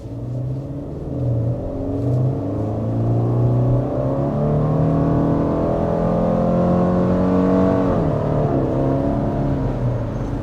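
2024 Subaru Outback with a CVT accelerating hard, engine revs climbing steadily in stepped, simulated shifts, loud and close from inside the car with no talk.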